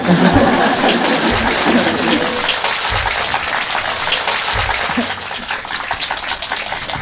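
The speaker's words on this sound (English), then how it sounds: "Give me a big applause and I will disappear" An audience at a talk in the USA gives sustained applause, a dense, rain-like clatter of many hands that eases and thins out toward the end.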